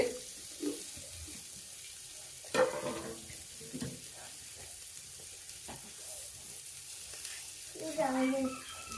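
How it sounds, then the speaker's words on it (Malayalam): Sliced large onion frying in a pan with a low, continuous sizzle, broken by occasional clatters and stirring knocks, with a few brief water-like splashes. "ഞാനിതാ വലിയ ഉള്ളി ഇട്ട് കൊടുത്തിട്ട് ഉണ്ട്"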